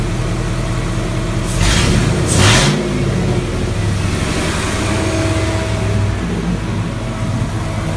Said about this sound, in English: See the revs work.